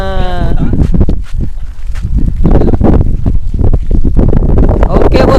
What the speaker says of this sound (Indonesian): cuacanya terlalu kencang nih, anginnya ekstrim banget nih bosku